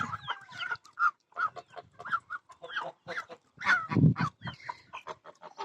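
Chickens cluck and geese honk in a busy, irregular mix of calls, fairly close, with short bursts and a louder honk near the end.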